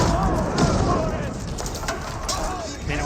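A crossbow volley in the Age of Empires 4 video game, heard as a dense wash of battle sounds with soft booming impacts and continuous clatter, with commentator speech running over it throughout.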